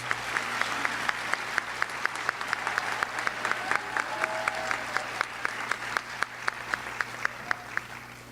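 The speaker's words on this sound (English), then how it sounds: "Ladies and gentlemen, please give our outstanding students another round of applause." Sparse, steady clapping for graduating students at a career and technology center graduation ceremony, distinct hand claps at a fairly even pace, faint and distant over a low hum.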